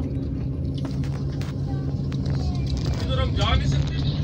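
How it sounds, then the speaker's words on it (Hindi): Taxis idling and moving near a site in Madina, a steady low engine rumble with passing traffic underneath someone talking close by. "ये देखें सारे टैक्सी वाले आए हैं जो टैक्सियों पे आते हैं"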